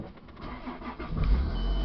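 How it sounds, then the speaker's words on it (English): A car engine turns over and settles into a steady low running rumble, close by and moderately loud, with no one speaking. "let mommy keep the car running"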